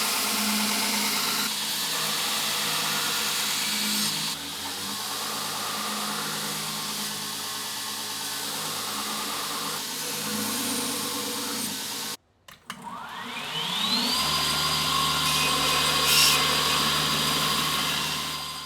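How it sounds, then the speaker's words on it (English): A belt grinder grinds the bevels of a custom hunting knife blade with a loud, steady motor whine. It cuts out briefly, then the motor spins back up to a constant hum. "we're going to just grind those bevels in almost to the right thickness I want"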